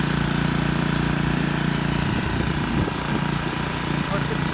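A new Isuki lawn mower's engine runs steadily at close range, a constant low droning hum with a slight flutter near the end.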